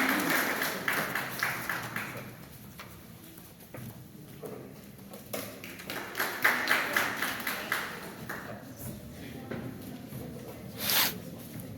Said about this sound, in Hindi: आप सभी तालियों की गूंज से सर का स्वागत करें।